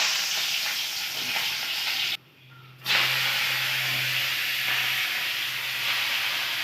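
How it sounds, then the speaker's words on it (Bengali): Dried red chilli, nigella seeds and crushed garlic tempering in hot oil in a kadai, a loud, steady close sizzle and hiss that drops out briefly then resumes. "আর একটু শুকনো লঙ্কা ফোড়ন দেব।"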